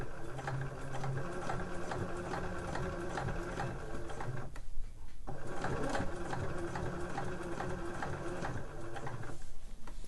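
A sewing machine runs steadily up close while top stitching fabric slipper boots, its rapid needle chatter pausing briefly midway before resuming at the same pace.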